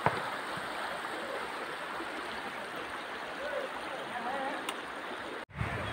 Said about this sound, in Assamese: দুইটা পাহাৰ লগ হৈ এডোখৰতে তাৰ সুৰংগই দিয়ে নদীখন বৈ আহি আছে।